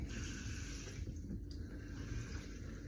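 A tap runs steadily into a sink while stuffing is being made, a continuous close splashing flow with a short dip in the middle.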